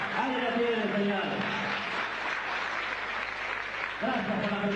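Audience applause at a tribute event for a folk musician, a soft steady wash of clapping heard at some distance, with someone speaking over it at the start and the end.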